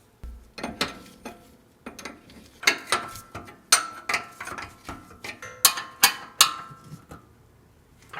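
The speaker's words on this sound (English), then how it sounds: "And now tighten it down." A ratchet tightens a nut on a sway bar end link of a 1980-1996 Ford Bronco, giving repeated bursts of close, loud clicking with brief pauses between strokes.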